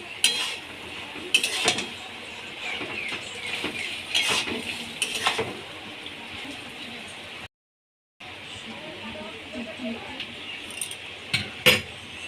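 Khosla greens curry being stirred in a pan, with repeated clinks and scrapes of utensil on metal over a steady low hiss, broken by a brief silent gap before the stirring resumes.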